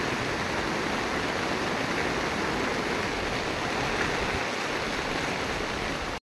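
Strong floodwater rushes across a flooded road in Barangay Taberna, Palompon, Leyte, during heavy rain, a dense, steady roar that stays loud and unbroken for the whole stretch with no voices over it.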